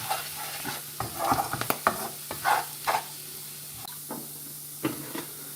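Garlic and plain flour cook in a pan with a steady low sizzle, broken by repeated scraping stirs and clicks of a utensil against the pan, close and fairly quiet with no talking.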